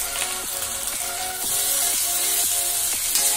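Potatoes frying in a pan with turmeric and chili powder over low flame, a steady close hiss and sizzle that grows slightly louder midway, with faint periodic scraping strokes from stirring.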